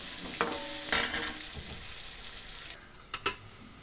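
Boiled banana flower, chickpeas and peas go into frying masala in a pan, giving a short burst of sizzle and stirring scrapes, then quieter hissing with a couple of soft clatters near the end.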